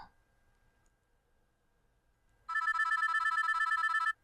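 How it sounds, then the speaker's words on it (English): After a couple of seconds of near silence, a telephone rings once in a rapid trilling burst, fairly loud and close, then stops. "When the ringing phone pulled me from my sleep"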